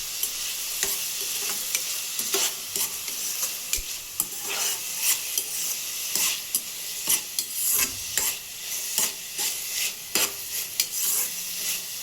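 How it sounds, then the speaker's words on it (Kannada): Tomatoes fry in a pan with a loud, continuous sizzle, punctuated by repeated sharp scraping taps of a spoon stirring them, with no talk. "ಟೊಮೆಟೊ ಹಾಕ್ಕೊಂಡು ಚೆನ್ನಾಗಿ ಫ್ರೈ ಮಾಡ್ಕೊಳ್ಳೋಣ್ರಿ"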